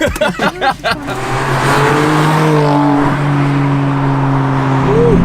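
A golden BMW M4 with a manual gearbox sits running close by, its engine holding a steady, loud rumble after a few short voice-like bursts at the start.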